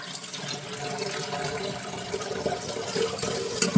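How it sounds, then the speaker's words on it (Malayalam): Running water splashing over a cooking pot being washed in a kitchen sink, a steady close gurgling stream with small knocks near the end. "പാത്രം ഇപ്പം തന്നെ കഴുകി വെച്ചാൽ അത്ര എളുപ്പമായി."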